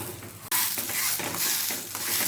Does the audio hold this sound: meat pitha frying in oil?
yes